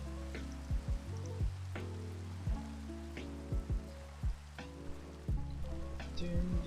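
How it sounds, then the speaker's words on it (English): Rain in Minecraft near the sea, a steady soft patter of falling drops with scattered sharper taps, fairly quiet and continuous, with no voices over it. "It's raining."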